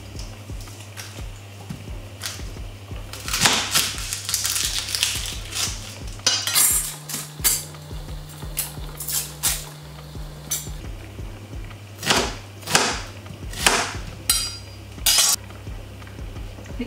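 A knife chopping half a big onion on a board while making tuna pasta, with irregular sharp taps and clinks, some in quick clusters, over a steady low hum from the stove or kitchen.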